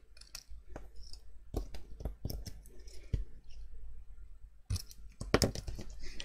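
Scissors snipping craft pieces in half for a homemade Christmas basket, a series of quiet close clicks and crisp cuts with short gaps between them.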